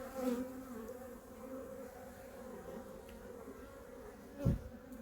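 Honey bees swarm around an open double-story hive during an inspection, a dense, continuous droning buzz close by with one brief louder burst near the end.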